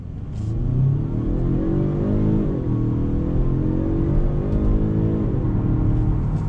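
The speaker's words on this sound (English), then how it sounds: "we're gonna do a little acceleration test from a dead stop" A 2021 Genesis G70 in automatic launches hard from a dead stop at a green light, its engine revving loud and steady through two rising gear pulls with a brief dip between shifts, no talk over it.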